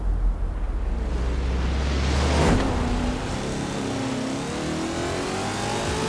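Chevy Camaro IROC-Z rally-spec club racer engine in Forza Horizon 4, loud continuous revving with a rising whoosh as the car accelerates past, then a steady mid-pitched drone under road noise.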